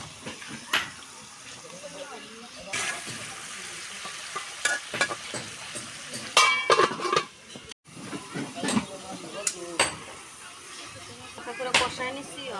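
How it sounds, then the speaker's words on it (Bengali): Fish sautéed with turmeric, chili and salt sizzles in a pan while a spatula scrapes and turns it in irregular bursts. The sound is moderately close, with background noise and a brief gap midway. "মাছটা হালকা করে একটু কষাই নিলাম"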